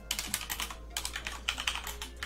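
Typing on a computer keyboard while setting up a home media server, with quick bursts of key clacks, a short pause, then more rapid keystrokes close to the microphone, with no talking.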